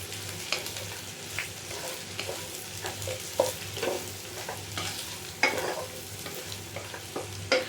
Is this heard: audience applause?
no